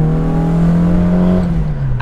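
A 1975 Ford Escort RS2000 with uprated twin carburettors revs hard, its loud, close engine note holding a steady, rising drone before easing slightly near the end.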